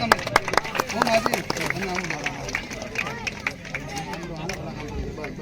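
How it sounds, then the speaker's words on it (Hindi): A crowd claps at the closing ceremony of a 2025 weavers' community cricket tournament in Vagad, held at Padoli; scattered, uneven claps sound under a constant babble of voices outdoors. "चारों ट्रॉफियां बॉडीगांव ब्रदर्स की तरफ से, फुलन परिवार की तरफ से। तालियां"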